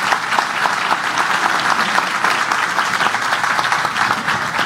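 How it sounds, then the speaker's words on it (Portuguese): An audience claps in steady applause to welcome the mayor of Fortaleza at a PDT political event. The clapping is dense and continuous throughout, with no talk over it. "com um aplauso de todos vocês"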